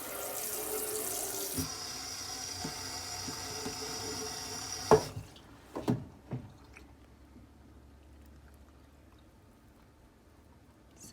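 Running water rushes out of an ultrasonic cleaner tank as it is rinsed, then stops, followed by a few splashes and knocks.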